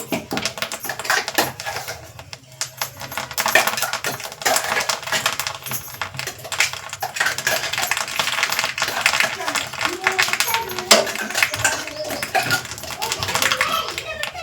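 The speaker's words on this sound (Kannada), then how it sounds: "ತುಪ್ಪ ಕಾದೈತಿ ಈಗ ಜೀರಿಗೆ ಸಾಸಿವೆ ಹಾಕ್ಬೇಕು" Cumin and mustard seeds hit hot ghee and crackle in a busy, irregular patter of sharp pops and sizzles that rises and falls steadily for several seconds, close up, with a person talking over it.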